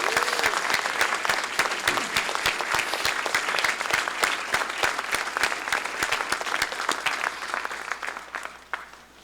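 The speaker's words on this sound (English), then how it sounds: "Let's give the Dorothy Cotton Jubilee Singers a big round of applause." An audience applauds the Dorothy Cotton Jubilee Singers at the Binghamton University unveiling of a statue honoring Harriet Tubman: dense, sustained clapping from a large crowd that holds steady for several seconds and then tapers off at the end.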